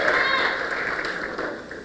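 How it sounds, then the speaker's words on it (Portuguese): Audience applause for fellow students at a business-leaders talk, a dense, steady wash of clapping that fills the whole moment and tapers slightly toward the end. "Vou dar palmas para os colegas de vocês aí."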